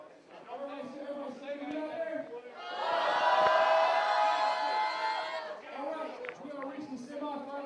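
Crowd at a 2011 Army combatives competition shouting and cheering for soldiers, a dense swell of whoops and yells that peaks midway, over steady chatter throughout.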